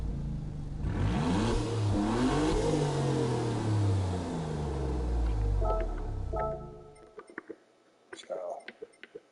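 Citroen car engine in Gran Turismo 7 revving loudly with rising and falling pitch for several seconds, then cutting out to quieter scattered clicks and blips near the end.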